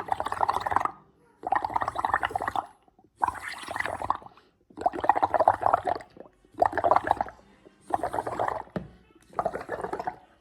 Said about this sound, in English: Now I will do the bubbles.